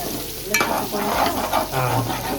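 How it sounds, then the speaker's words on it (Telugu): Spice paste fries in oil in a pan for chicken curry, a steady close sizzle broken by stirring scrapes and soft spatters. "వేగుతుందా? బాగా వేగుతుంది."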